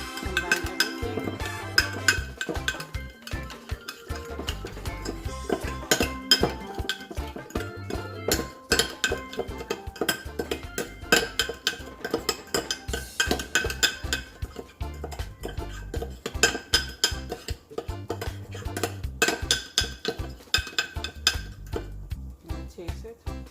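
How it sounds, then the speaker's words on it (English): Jerk chicken marinade with ketchup is mixed in a bowl, with a long run of rhythmic, close clinking and scraping of a utensil against the dish and wet stirring sounds. "Mix this together, combine everything."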